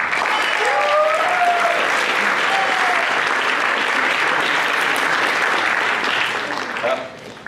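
An audience at a student leadership summit claps steadily for alumni standing up, a dense, even wash of applause that tapers off near the end, with faint voices over it.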